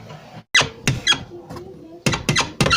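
A power window regulator on a Lada Granta squeaks as the glass lowers, giving sharp, repeated high squeals in short bursts close to the door, with brief gaps between them.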